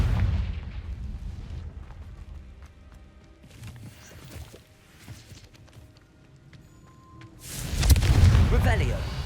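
A Confringo fire spell explodes in the Hogwarts Legacy video game. A loud, heavy blast erupts near the end after quieter game ambience and scattered effects, and a voice is heard in the game audio.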